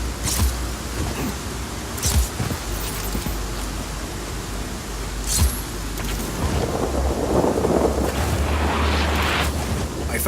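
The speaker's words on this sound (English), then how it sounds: "Storm's rolling in." A thunderstorm rolls in within Just Cause 4: loud, continuous rumbling and wind-like roar, with sharp cracks near the start and around midway, building into a heavier rolling swell toward the end, no voices.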